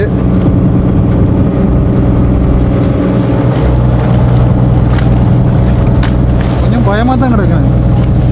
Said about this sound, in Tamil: நாங்கள் இப்போ கடலில் போய்க்கு நிற்கிறோம். போட்டில் நல்லா காத்தடிக்குது.